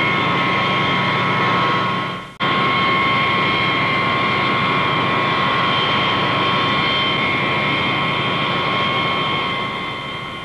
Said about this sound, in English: jet noise is a new, unnerving order of sound